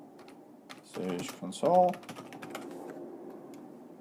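Light clicking of a computer keyboard, typed in short bursts under someone speaking.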